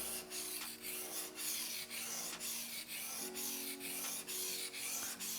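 A knife blade is stroked back and forth across a whetstone with slurry in a quiet room, a steady rhythm of close, gritty rubbing passes with brief pauses between strokes.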